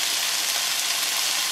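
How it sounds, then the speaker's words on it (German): Sliced mushrooms and onions fry in hot oil for an Iberico rolled roast, giving a steady, loud, close sizzle with no pauses and no voices. "Und jetzt geben wir unsere Champignons hinzu und rühren da gar nicht um. Oben drauf kommen die Zwiebeln,"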